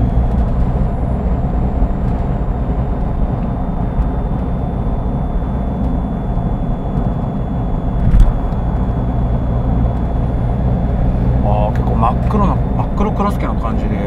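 Steady engine and road noise inside a Smart fortwo Cabrio Brabus Exclusive Edition cruising at speed, with a continuous low rumble under someone talking throughout.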